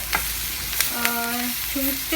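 Steady sizzling of capsicum frying in a pan, with a few scraping stirs and faint clinks, no voices.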